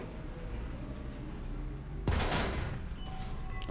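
A single loud tank cannon shot from an enemy tank in the War Thunder video game bursts out suddenly near the middle, with a sharp broadband blast and a short rumbling decay over steady engine and battlefield background.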